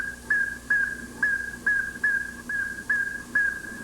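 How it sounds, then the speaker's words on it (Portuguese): Recorded slow whistle of a Great-billed Seed-finch (bicudo apitador), one clear note repeated about eight times at an even, unhurried pace over a faint hissy background. "Um apito lento, ele repete a mesma nota."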